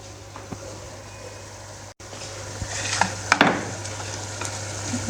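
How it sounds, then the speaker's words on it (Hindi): Ginger garlic paste frying in a pan for chicken pulao, a steady soft sizzle with a brief clatter of stirring partway through, close by. "अब इसमें लहसुन अदरक का पेस्ट डालते हैं।"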